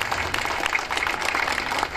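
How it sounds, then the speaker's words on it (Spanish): Applause from an audience at a public event announcing a 430-square-metre bus terminal under construction in Villa de Cura, a steady dense patter of clapping lasting about two seconds at moderate volume with no talk over it. "Un aplauso para eso, bien grande."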